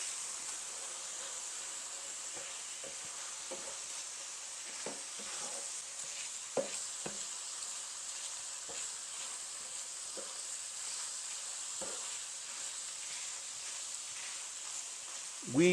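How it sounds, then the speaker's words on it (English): Ground beef with seasonings sizzling in a pan, a low steady frying hiss with scattered soft scrapes and stirring clicks, close by, no talking. "we're just going to add those to the ground beef, and we're going to cook for 1 minute just to sweat the seasonings"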